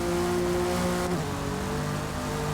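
Aston Martin race car driven flat out at Silverstone, a loud steady engine drone heard from onboard, with a sharp gear change about a second in, then a sustained high-revving roar.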